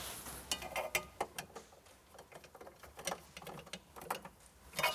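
A metal basket channel slides into place in a blind corner kitchen cabinet, giving faint, close rattling and ratcheting clicks with a series of sharp metallic ticks, and no talk.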